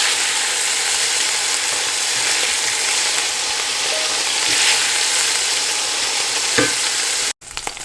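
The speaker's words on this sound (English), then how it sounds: "So let's fry this for both sides." Lamb pieces frying in oil for Tibetan thukpa soup make a steady, loud, close sizzle that runs unbroken for several seconds, with a few faint utensil clicks near the end.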